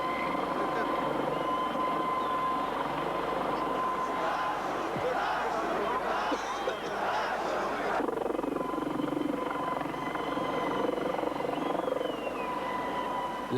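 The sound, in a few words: helicopter flying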